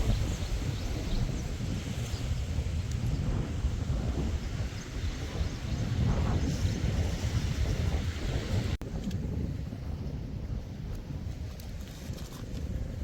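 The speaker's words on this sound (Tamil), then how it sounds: "காற்று உரமாக இருக்குது" Strong wind roars steadily into the microphone near the seashore, a dense rumbling buffet with gusty fluctuations, continuous throughout with no voices.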